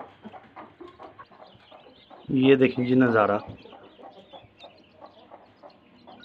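A hen calls loudly with its chicks gathered beneath it, giving a short burst of strong, harmonic clucking in the middle of the clip, with quieter farmyard sounds around it and someone talking.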